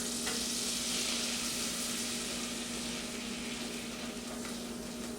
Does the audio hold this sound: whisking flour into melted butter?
yes